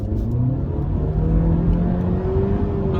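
A 2018 Honda Civic VTEC Turbo GT with CVT automatic revs hard under full throttle joining a motorway, pitch climbing steadily as it accelerates, loud and close from inside the vehicle.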